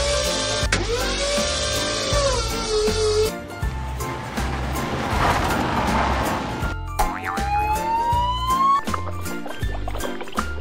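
A toy ambulance siren wails with rising and falling electronic tones over a busy musical backing, loud and close, with a boing-like swoop midway.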